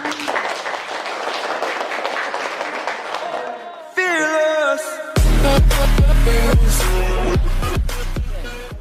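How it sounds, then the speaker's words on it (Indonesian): An audience at a school teacher-training dissemination session claps after a presentation, then music with a strong beat starts abruptly and plays loudly over the fading applause. "Tepuk tangan dong."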